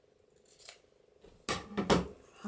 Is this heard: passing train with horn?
no